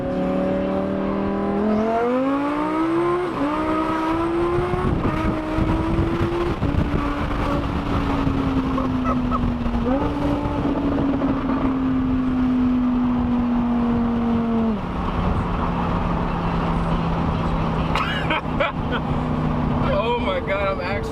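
A 1000-horsepower twin-turbo Lamborghini Huracán accelerates hard in a ride-along, its engine note climbing in repeated rising sweeps through gear changes, loud and close from inside the cabin with occasional voices over it.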